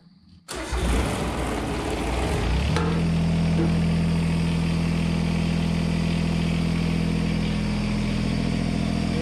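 John Deere 330 engine cranking briefly, then catching and settling into a steady, loud idle that continues unbroken to the end, with no talking.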